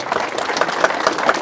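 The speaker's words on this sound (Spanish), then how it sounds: "Fuerte el aplauso para San Antonio." A crowd at a village festival for Saint Anthony of Padua claps in brief, dense applause, a close, steady patter of many hands.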